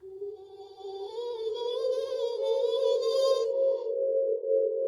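A sustained, pitched drone synth tone swells with rich overtones and a washy reverb tail, slightly wavering before the upper harmonics drop away.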